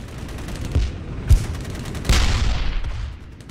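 Tank cannon shots hit an engine in the World War II game Theatre of War 2: Kursk 1943, several sharp booming blasts spaced apart, the last leaving a longer rumbling, crackling tail.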